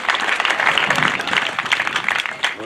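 A crowd at Alupe University's first graduation ceremony claps for Coach Dixon, a brisk, fairly close burst of applause that carries on evenly.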